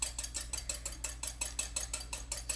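Utensil folding ingredients into buttermilk pancake batter in a bowl, a steady rhythm of about three scraping, clinking strokes per second against the bowl, close and clear with no talk.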